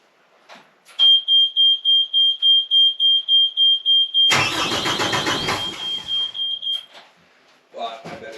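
An engine on its very first run cranks and roars to life, loud and close, after a steady pulsing high electronic beep; it runs a few seconds, then cuts out before brief talk.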